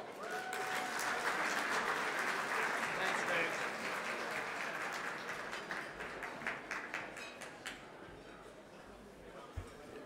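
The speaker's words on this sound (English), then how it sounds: "Give a round of applause for Barry Pearl." Crowd applause at the Jockeys & Jeans 2023 event as the organization's president walks up to the stage, dense and steady at first, then thinning to scattered claps and a few cheers before fading.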